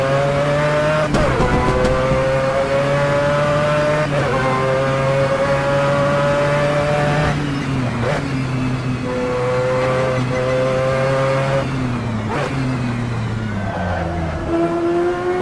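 Mazda 787B race car in Assetto Corsa: a loud, close engine wail climbing through gears with sharp shifts and falling pitch under braking, with brief tire squeal, no voices.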